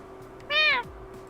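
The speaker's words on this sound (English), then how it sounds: "It is a simple meow, but it sounds like a proper response to my ears." A single cat's meow, clear and fairly close, rising and falling over about a third of a second against a quiet room hum, with no talk around it.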